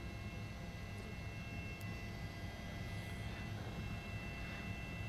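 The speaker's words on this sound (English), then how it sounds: "letting the helicopter follow him here." A police helicopter circles overhead during a high-speed car chase in Oklahoma City, its distant engine drone a faint, steady hum that continues without interruption.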